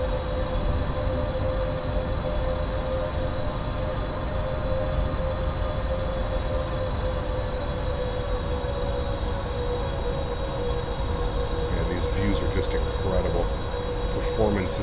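In Microsoft Flight Simulator, a PMDG 777-300ER airliner on short final into Montreal gives off a continuous loud engine drone with steady tonal whine, broken by a few brief clicks near the end.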